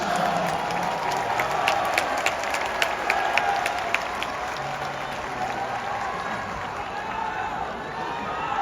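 FC Seoul football fans applaud steadily in a stadium as a player arrives for a farewell. The clapping is dense and sustained, with a few sharp individual claps near the front over a broad crowd roar.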